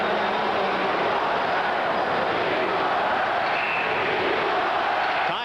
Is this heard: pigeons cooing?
no